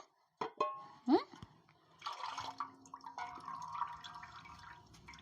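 Water drips and trickles from soaked puffed rice squeezed firmly by hand while making Rayalaseema-style uggani, with a few close, irregular drips and splashes over roughly five seconds.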